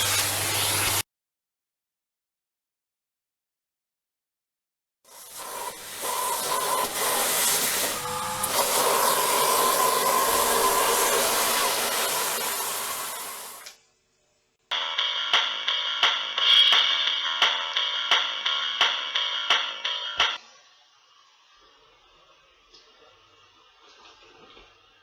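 A Bosch GL 30 Pro Energy compact vacuum cleaner fitted with an upholstery brush roars loudly and steadily for several seconds, stops briefly, then runs again with a rattling, clicking tone before winding down to a faint hum.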